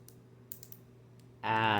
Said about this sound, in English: I do like the clicking. The clicking is appealing to me.